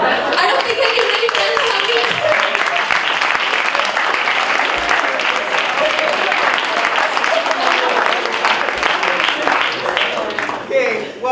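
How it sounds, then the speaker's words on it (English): An audience at a late-night show applauds loudly and steadily, dense clapping with some laughter mixed in, tapering off at the very end. "round of applause"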